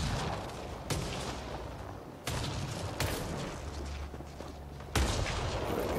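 Mass Effect Andromeda cave combat, with rapid gunfire bursts and loud explosive blasts at uneven intervals over a rumbling battle backdrop. No one speaks.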